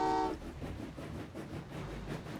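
A train horn toots briefly at the start in the Train Valley 2 video game, followed by a steady low rumble of the train rolling along, moderately loud with no talk.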